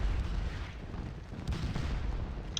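Artillery in the Napoleonic battle game Scourge of War Waterloo rumbles at a distance, low muffled booms rolling over a continuous battlefield din.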